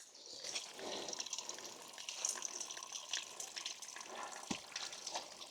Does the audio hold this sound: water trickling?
yes